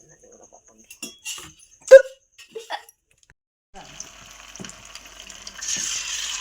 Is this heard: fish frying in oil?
yes